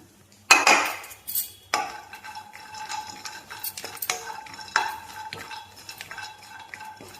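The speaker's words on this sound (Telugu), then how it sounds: "ఇప్పుడు దీనిలోనే మనం ఎండు కొబ్బరి ముక్కలు కట్ చేసి పెట్టాను కదా అవి కూడా వేసేస్తున్నాం" Dry coconut pieces tossed into a pan with roasted lentils and cashews, giving loud scraping and clattering as they are stirred, with irregular knocks of spoon against metal over a faint sizzle.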